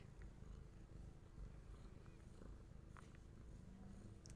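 Pet cats purr softly and steadily up close, a faint continuous rumble with no talk over it.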